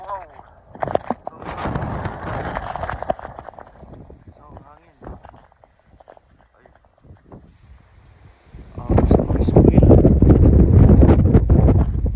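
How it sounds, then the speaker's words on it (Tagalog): Strong wind buffets the microphone during a snow squall at an outdoor work site in Edmonton, a gusty roar that eases mid-clip and then surges loud and steady near the end, with a voice talking over the earlier part. "Ang hangin."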